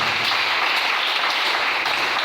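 A church congregation applauds to acclaim the Lord, steady dense clapping from a crowd filling the whole moment at even loudness, with no talk over it.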